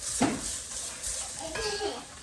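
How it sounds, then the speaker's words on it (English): Carrots sauté in a pan for soup in a home kitchen, a soft sizzle with light stirring and a metallic clink of utensil on pan, fairly quiet, with a faint voice in the background. "I'm sauteing the carrots for the soup"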